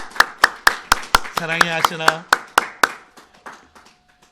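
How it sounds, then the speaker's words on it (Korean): A church congregation clapping in encouragement of a member, a run of sharp, evenly spaced claps that thins out and fades, with one voice speaking over the middle. "우리 박수로 한번 하신이 한번 격려해 주면 좋을 것 같아요"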